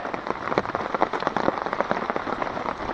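Cold rain patters steadily on a tarp over a backwoods hammock camp, a dense, even hiss of close drops with scattered louder taps, with no voices.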